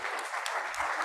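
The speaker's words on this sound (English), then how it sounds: "we're going to give her a great round of applause" A meeting audience claps, a short, dense burst of applause from a crowd in a hall, steady and fairly close.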